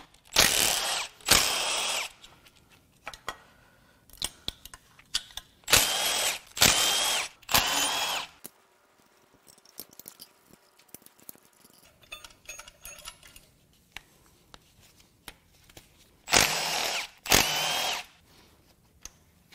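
A power tool zips in repeated short bursts while removing a crash-damaged bracket from an Infiniti Q50 VR30DDTT engine, with ratcheting clicks and metallic handling noises in the quieter gaps between runs.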